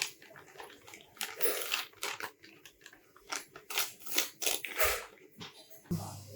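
Cut vinyl for a graphic T-shirt, made on a Silhouette Cameo 2, is peeled away from its backing sheet in close, crackly tearing and crinkling bursts that come in uneven spurts.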